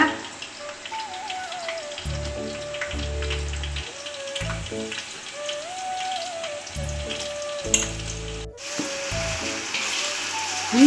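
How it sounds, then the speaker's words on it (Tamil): Ginger garlic paste sautéing with golden-brown onions in a pan for mutton biryani, a steady close sizzle and crackle running throughout with some intermittent low thumps of background noise. "இப்போ நம்ம பாருங்கள் இஞ்சி பூண்டு சேர்த்து வதக்கலாங்க"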